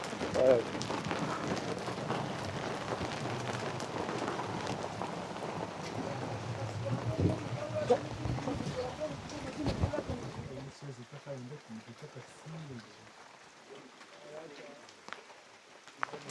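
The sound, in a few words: rain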